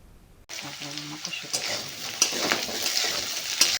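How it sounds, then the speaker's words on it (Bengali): Beans, eggplant and mixed vegetables frying together in a pan for Bengali khichuri, a steady loud sizzle with scraping stirs that starts abruptly and continues throughout. "কেটে রাখা বিনস, দিয়ে আবারও সবজিগুলোকে একসঙ্গে ভাজতে হবে"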